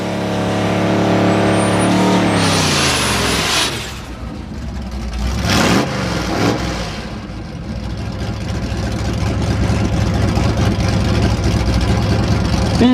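At a drag strip, a Mercury M100 unibody truck and a 1984 Pontiac Grand Prix rev loudly, then launch with a roaring engine burst that fades down the track, followed by continued engine drone.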